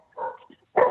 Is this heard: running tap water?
no